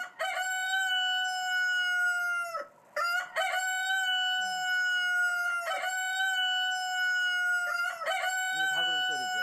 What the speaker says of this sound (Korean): 이게 닭울음